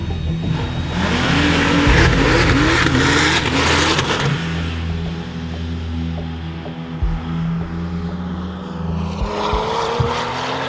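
A Porsche 911 GT2 RS with 700 Nm of torque revs hard while driving, its loud engine note rising and falling through gear changes, sustained and close throughout.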